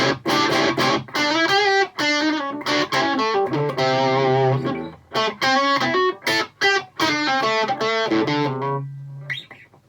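Electric guitar played through a D&M drive pedal alone, distorted chords and single notes picked in short bursts with sustained ringing notes between, loud and close with no talk.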